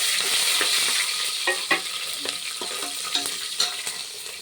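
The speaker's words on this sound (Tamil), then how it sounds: "இப்போ நாலு பச்சை மிளகா எடுத்து ஆட் பண்ணிக்கலாம்" Green chillies frying with cashews in hot oil in a pan for ghee rice, giving a steady sizzle broken by soft stirring scrapes and clinks, fairly close and moderately quiet.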